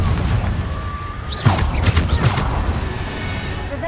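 A Confringo blasting spell in Hogwarts Legacy goes off as a short burst of sharp bangs and crackling booms around the middle, rising out of a quieter game ambience.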